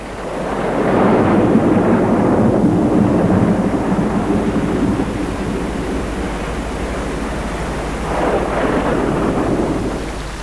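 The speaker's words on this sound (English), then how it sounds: "The fierce downpours soon replenish the land." A heavy thunderstorm in the Australian wet season, loud and steady: rolling thunder rumbles over a dense wash of downpour, swelling strongly near the start and again toward the end.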